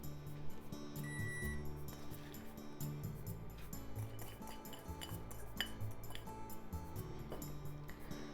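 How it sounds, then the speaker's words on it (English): A utensil stirs enoki mushroom miso soup in a pot, with soft, continuous scraping and occasional light metallic clinks against the pot over a steady background hum. "Give it a stir."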